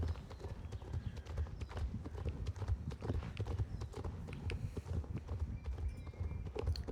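Horse hooves clip-clop steadily while riding in the Star Stable video game, a quick continuous rhythm of light hoofbeats close by for the whole stretch, with faint voice in the background.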